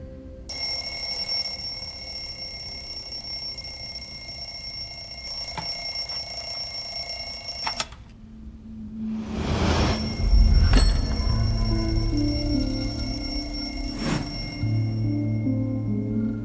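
An alarm clock rings loudly and steadily for about eight seconds, cuts off, then a rumbling, swelling noise with scattered tones follows.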